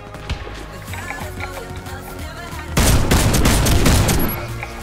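Fabarm Sat 8 Pro Gold shotgun fire in the shooter game Warface: light clicks and distant shots at first, then a loud, close barrage of rapid blasts for about a second and a half before it fades back.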